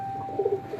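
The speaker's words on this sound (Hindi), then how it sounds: "इनके पास बड़ी किस्म के लो फ्लाइंग कबूतर है।" Large low-flying pigeons on a rooftop, a short soft coo of a few pulses, faint and close, over quiet background hum.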